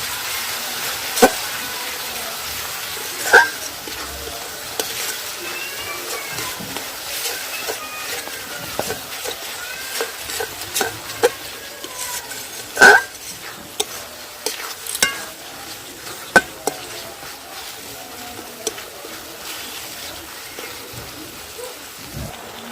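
Chili powder, slit green chilies and spices frying in a pan for a Bangladeshi oil-and-chili sarputi fish dish: a steady crackling sizzle with scattered sharper clicks of a spatula, no voices.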